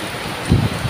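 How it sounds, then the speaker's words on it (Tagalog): Heavy typhoon rain pours down beside an outdoor cooking spot, a dense, steady hiss with a brief low gust of wind in a very short burst. "lakas ng ulan"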